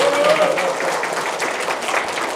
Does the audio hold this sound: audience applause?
yes